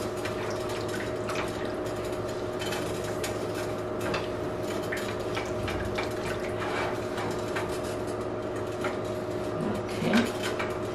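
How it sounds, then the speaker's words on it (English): Milk pours into a saucepan of cheese sauce for a macaroni and cheddar casserole and is stirred in, giving a close, continuous liquid trickle with dripping and soft utensil clinks against the pan, with no speech. "At this point, I'm going to add some milk and mix this in."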